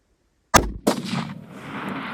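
A hunting rifle fires a single loud, sharp shot at a Coues deer in the Arizona outdoors, followed a moment later by a strong echoing report that rolls and fades across the open terrain.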